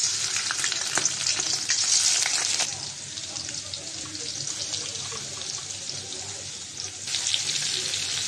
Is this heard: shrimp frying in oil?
yes